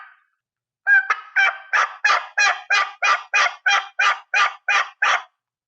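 Turkey box call imitating a hen turkey, a quick run of about thirteen raspy two-note yelps in steady rhythm, loud and close with silence around them.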